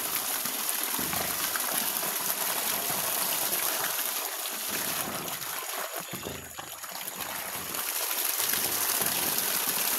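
Steady, loud rush of water gushing from a gravity-fed dam into a tilapia fishpond, a constant close gushing roar with slight swells and no voices.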